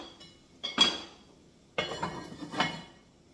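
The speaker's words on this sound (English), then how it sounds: "Put the top back on" A metal lid is set back onto a pot of simmering vegetable soup with celery and carrots, giving a few soft clanks and clinks at close range and no talk.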